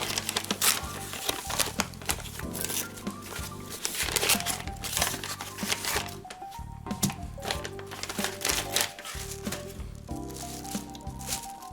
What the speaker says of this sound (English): Undo the brown paper.